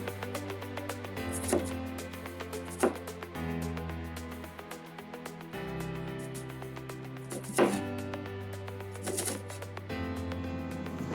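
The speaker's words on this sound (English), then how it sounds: "while I'm cutting up the shallot, I use the very tip of my knife" A knife tip chops shallot on a cutting board in a steady series of quick, light taps with occasional sharper knocks, close and fairly quiet, with no talking.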